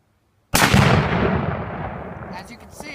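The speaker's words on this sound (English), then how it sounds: "as you can see, it blew up" A single loud blast of Tannerite binary explosive struck by a rifle shot, blowing apart a watermelon outdoors; a sharp boom followed by a long, rolling decay, with faint clicks as it fades.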